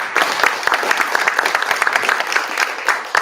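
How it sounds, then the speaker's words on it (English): An audience at an industry leader panel discussion breaks into sustained applause, dense overlapping claps from a room of people lasting several seconds without talk. "Let's give them all a round of applause."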